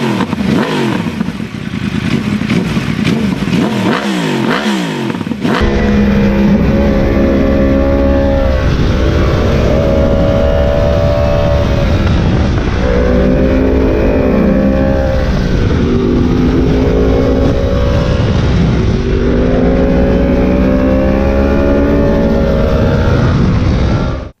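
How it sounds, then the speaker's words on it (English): An inline-four motorcycle engine idles with a V8-like rumble, then revs repeatedly in rising and falling surges, loud and close, with no voices. "the V8-like sound is created from an inline 4"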